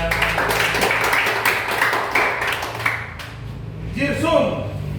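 Applause for newly certified SMAW welding certificate holders at a small ceremony, a short burst of clapping from a modest group that fades out while people talk and laugh.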